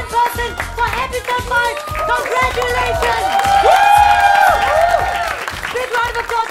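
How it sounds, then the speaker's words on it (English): Studio audience applause and cheering at a comedy game show episode, a loud, steady wash of clapping with whoops and shouts that swells midway, with voices and music-like tones running through it. "Big round of applause to Nishant and Rahul as well, of course."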